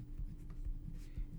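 Writing strokes on a board during a college math lecture on graphing functions, soft scratchy marks repeating every half second or so over a steady low room hum, with no talking.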